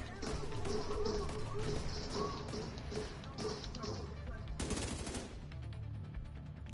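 Gunfire in the video game The Division 2, rapid bursts of automatic shots and a louder burst near the end, with players' voices talking over the shooting.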